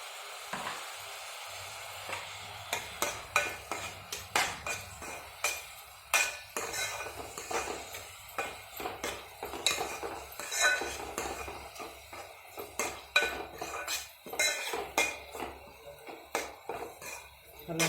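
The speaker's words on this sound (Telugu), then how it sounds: "అల్లం వెల్లుల్లి పేస్ట్ కూడా బాగా ఫ్రై అవ్వాలి" Ginger garlic paste frying in a pan while being stirred, with repeated metal clinks and scrapes of a spoon against the pan over a soft sizzle, close and steady.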